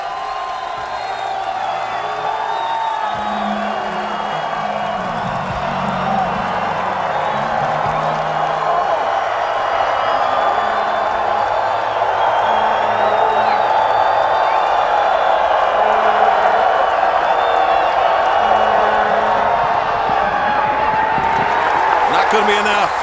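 Sam Houston State home crowd at a college football stadium during an FCS quarterfinal against Colgate, a steady distant roar of cheering and yelling that holds throughout, with faint commentary beneath.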